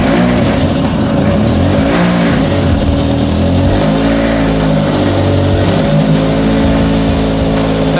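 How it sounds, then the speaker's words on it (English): A Toyota Levin GTZ, left sitting for two months, idles and revs loudly up close with a harsh, rasping exhaust leak, its rough engine note steady and continuous with no talk over it. "That is one hell of an exhaust leak."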